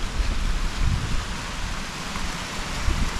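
Steady rain and gusting wind on a sheltered forest track, with continuous dense hiss and low buffeting rumble from wind on the microphone. No speech is heard.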